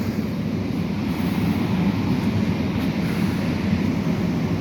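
A steady low rumble of a passing electric locomotive, EU07 or EP07 series, in Tarnów, Poland, heavy and continuous with wind buffeting the microphone, no voices.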